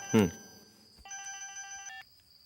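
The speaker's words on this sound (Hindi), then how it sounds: "फोन बज रहा है।" A short vocal burst gives way to a bright electronic telephone ring, a steady trilling tone that sounds once for about a second.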